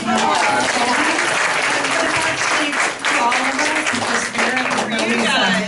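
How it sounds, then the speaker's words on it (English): A standing congregation at a Saturday spiritual service gives Colby a big, loud round of applause, dense clapping from many people up close, with voices talking and calling out over it. "I just want to go ahead and give Colby a big round of applause."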